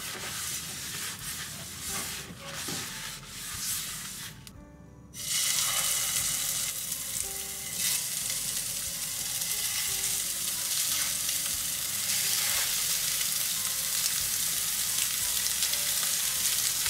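Oil sizzles in a frying pan while Japanese-style stuffed peppers are cooked, a steady loud hiss that surges louder midway and continues without a break, with no talking.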